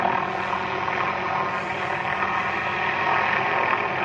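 A steady, dense mechanical drone of a helicopter carrying a suspended aerial saw cutting treetops, rotor and engine holding constant and fairly loud throughout with no talking.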